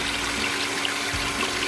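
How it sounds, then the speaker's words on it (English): Water rushing steadily during the backwash cycle of an air-scouring water filter, a loud, even gush with a low mechanical hum beneath, brief and continuous. "this is the backwash process"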